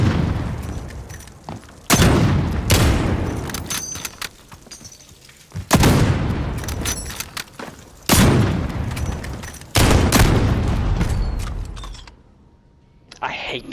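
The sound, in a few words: HDR sniper rifle gunfire in Modern Warfare video game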